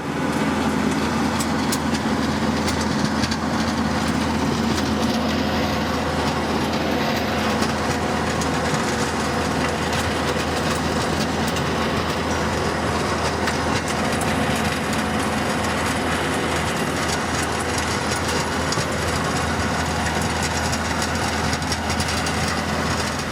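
A tractor drives a 10 Series rotary tiller through soil, making a steady, loud mechanical drone with a rattling, grinding texture that stays constant and uninterrupted throughout, with no one speaking.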